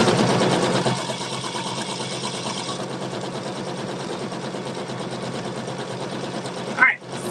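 Sewing machine running steadily while stitching faux vinyl, a continuous fast mechanical whir that holds level throughout, with a brief louder clunk near the end.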